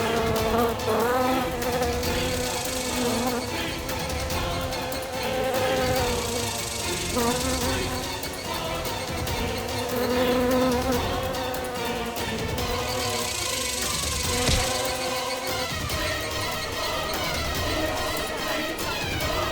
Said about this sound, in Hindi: ये मक्खी आपको कुछ नहीं करेगी।